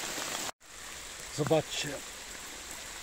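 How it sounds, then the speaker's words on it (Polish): Heavy rain pours down in a forest during a September mushroom-foraging outing, a steady dense hiss filling the whole scene, briefly cut by someone speaking a few words. "ale pada strasznie, strasznie pada"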